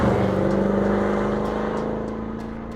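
A Mercedes-Benz C63 AMG Coupe drives on an empty Spanish road, its engine giving a loud, steady, throaty drone that fades slightly as it pulls away.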